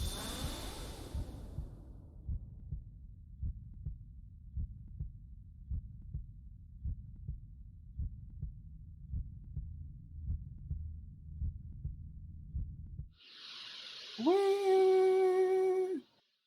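A soft, steady heartbeat pulses in a visual novel game, its muffled thumps repeating evenly for several seconds before it stops and a bright chiming synth swell takes over.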